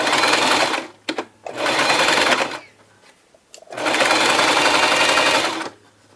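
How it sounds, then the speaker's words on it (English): A sewing machine running a straight stitch on a small fabric heating pouch, loud steady motor-driven hum in two long runs separated by a brief pause and a few clicks, close by. "So set your machine accordingly and begin to sew."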